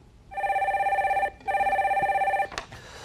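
A telephone rings in two long electronic bursts, each a steady warbling tone, on a broadcast call-in show as the line connects to the next caller, then briefly cuts off with a click; no talking.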